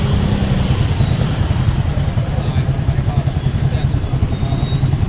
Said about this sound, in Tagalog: Yan ang mga motor oh, overtake na sila.